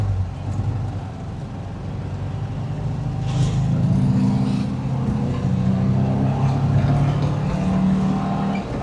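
A 1972 VW Bus engine, freshly fitted with a new 38mm carburetor, drones steadily on a short test drive around the block, a continuous low rumble that swells slightly partway through, with no talk.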